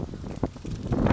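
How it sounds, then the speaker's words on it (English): Strong wind gusts buffet the microphone, producing a low, rough rumble that swells and surges unevenly throughout. "It's wicked windy."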